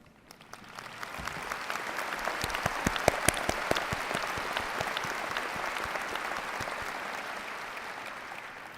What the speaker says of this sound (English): we will like to applaud you a second time